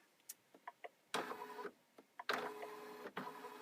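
Home embroidery machine test stitching ear placements for a floppy-eared bunny stuffie design, heard as a series of short mechanical clicks followed by bursts of rapid whirring stitching, close and alone.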